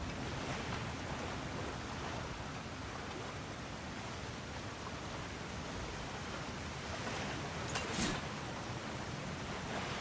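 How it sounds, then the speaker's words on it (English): Steady rushing water in God of War Ragnarok after a blocked flow is cleared, a broad, even wash of noise like surf, fairly faint and constant throughout with no talking. "Sounds like you got the water moving along"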